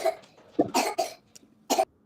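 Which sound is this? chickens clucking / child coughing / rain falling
child coughing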